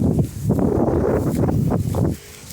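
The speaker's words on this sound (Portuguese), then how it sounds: "é tão forte que o vento tá quase me levando aqui" Strong tornado wind in Canaã dos Carajás, a loud, close roaring buffet with gusting surges that batter the microphone, continuous and turbulent before easing near the end.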